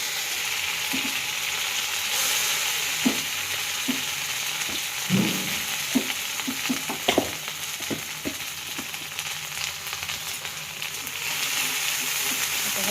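A paste of roasted coconut, onion and garlic frying in an iron pan, a steady soft sizzle with occasional scraping and stirring clicks, close and without speech.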